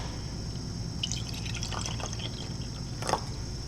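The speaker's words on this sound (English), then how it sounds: "So we're going to add some water to this." Water is added to a solution during a chemistry percent-yield lab, giving soft drips and light splashes of liquid, with a brief brighter splash near the end over a quiet room.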